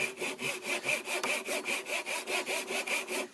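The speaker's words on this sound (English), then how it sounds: "So once I get my groove started, now I can start the aggressive cut." Hand saw cutting a groove into wood for a gate, about a dozen regular push-pull rasping strokes in a steady rhythm, close and clear, with no one talking.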